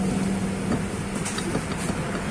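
A scooter's CVT pulley with a worn slider gives off a steady mechanical hum and rattle, close and fairly loud, with a sustained low drone and faint scraping.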